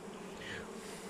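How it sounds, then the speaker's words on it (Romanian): A steady, low buzzing of many honey bees droning together at beehives, soft and continuous, with no voices. "Albina este, e plin aici."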